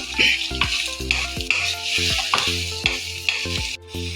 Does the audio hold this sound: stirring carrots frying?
yes